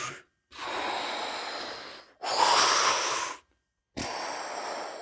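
A voice imitates a huge dinosaur breathing, making three long, loud, airy rasping breaths separated by short silences, close and alone.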